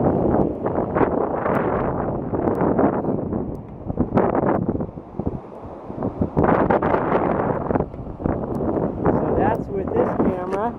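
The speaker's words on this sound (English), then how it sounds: "And it's pretty windy out. I'm going to get the wind probably around 15 knots." Gusty wind buffets a Canon 310 HS point-and-shoot camera's microphone outdoors by the ocean, roughly 15-knot wind, producing loud continuous rumbling bursts that rise and fall throughout, with a few faint voices underneath.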